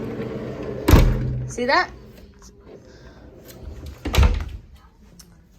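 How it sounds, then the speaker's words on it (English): Sliding cabin doors on a Carnival Celebration cruise ship Forward Excel Suite are pushed open and shut, giving two loud, close rolling thuds a few seconds apart, with a person talking briefly between them. "they have these nice little slide-in doors, which is really cool"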